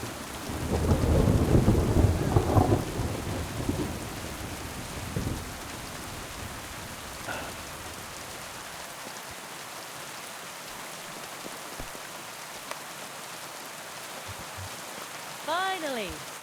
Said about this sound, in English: storm out here